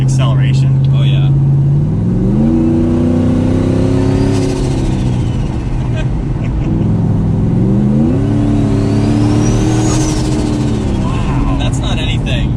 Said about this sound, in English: It's definitely a nice gradual acceleration.